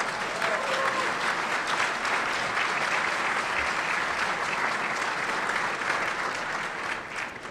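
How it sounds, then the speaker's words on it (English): Steady, dense applause from a large audience at a cross-border business forum, greeting a list of sponsors including First National Bank and the San Diego Padres, loud and sustained throughout before easing slightly at the end. "pause for applause"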